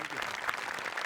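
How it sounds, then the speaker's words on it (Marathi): Audience applause at a Marathi comedy stage show, Maharashtrachi Hasyajatra: a short, dense burst of many hands clapping together, steady and close. "त्याच्यासाठी पण एकदा टाळ्या वाजल्या पाहिजेत"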